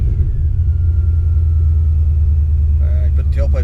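A 1995 Ford Mustang GT with headers, X-pipe, intermediate pipes and new mufflers but no tailpipes idles with a loud, steady, deep exhaust rumble, with a brief voice near the end.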